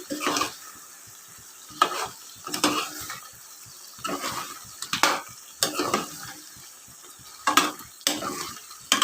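Country chicken curry cooking in a pot, stirred in rhythmic bursts of scraping and clanking over a low bubbling sizzle, close and fairly loud, with no speech.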